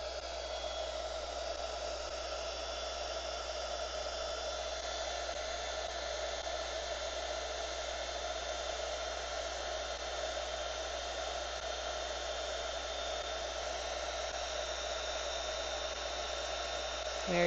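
A heat gun blows hot air onto heat-shrink tubing over miniature dollhouse light wires, a steady even whoosh with a faint tonal whine, held at constant level throughout with no talk.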